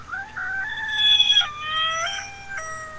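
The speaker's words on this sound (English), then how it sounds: "Did you hear him? Did you hear the rooster?" A rooster crows loudly and close by, one long drawn-out call followed by a shorter trailing crow, heard alone without talk.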